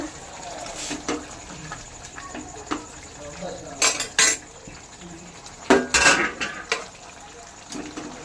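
A metal lid lifted off a cooking pot of jackfruit and prawn curry, with a few sharp clinks and clatters of metal against metal, close and fairly loud, between quieter stretches of kitchen background.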